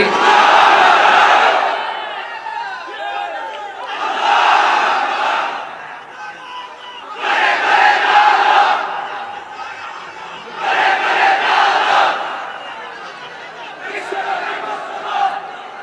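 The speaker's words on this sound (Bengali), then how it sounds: "হ্যাঁ, তাকবীর পড়েন তো দেখি।" A large crowd at an Islamic sermon gathering chants takbir in unison, five loud swelling shouts spaced a few seconds apart, each voiced together by many men and fading between repetitions.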